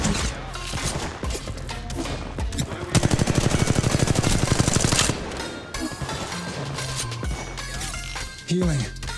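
Rapid gunfire in Apex Legends Mobile: bursts of shots, then a sustained automatic volley of evenly spaced loud cracks in the middle, with a voice speaking over the battle.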